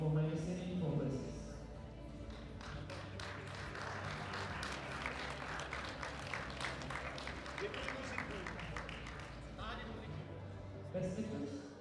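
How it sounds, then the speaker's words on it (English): An audience at a European sub-junior and junior classic powerlifting championship gives a round of applause, steady clapping at moderate distance with crowd noise beneath, rising and fading near the edges. "a last round of applause for all of the ladies of the 84 minus and 84 places"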